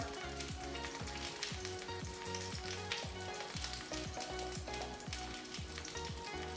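Salmon fries in oil in a pan, giving a close, continuous crackling sizzle with dense popping spatters throughout and no talk.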